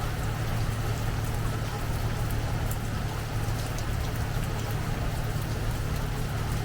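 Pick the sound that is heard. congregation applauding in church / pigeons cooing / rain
rain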